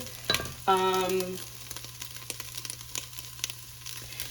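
Spicy sausage, onion and garlic frying in a pot, a soft steady sizzle with crackles and pops, plus a brief metallic clink and a short ringing tone near the start.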